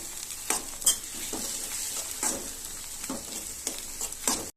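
Beaten egg fries in a pan while a spatula stirs and breaks it into large pieces, giving a soft, steady sizzle broken by repeated scraping strokes and one clink of metal.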